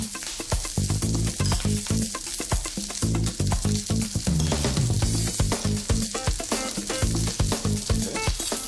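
Fish frying in a pan in a modern German restaurant kitchen, cooked until crispy: a constant close sizzle with crackles and stirring clatter, no voices.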